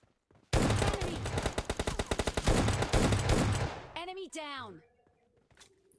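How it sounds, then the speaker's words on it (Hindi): Loud automatic gunfire in a solo versus duo online shooter game rattles in a dense, rapid burst for about three and a half seconds, then stops as a brief voice is heard. "इधर से गोलियों की आवाज़ आती है"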